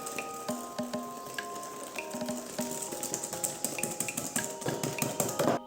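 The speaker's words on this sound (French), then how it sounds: "on mélange vigoureusement le tout" Chocolate cake batter with cocoa powder and vanilla extract is mixed vigorously in a bowl, with a quick run of scraping and clinking taps from the utensil that grows busier toward the end, close and fairly quiet.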